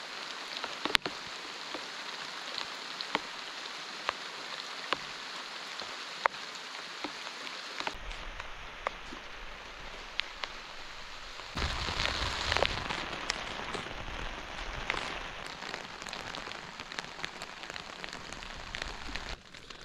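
Heavy rain pours steadily over a small riverside forest camp, a dense hiss with scattered heavier drops, swelling louder partway through and continuing to the end with no talking.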